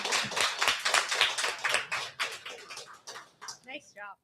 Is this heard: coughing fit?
no